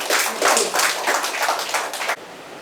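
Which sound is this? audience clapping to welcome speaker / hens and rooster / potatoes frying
audience clapping to welcome speaker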